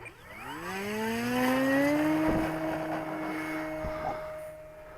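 An E-Flite Carbon-Z Cessna 150 RC model plane takes off, its electric motor whine rising steeply in pitch, then holding a steady, fairly loud buzzing tone as it climbs away, with a faint tonal drop near the end.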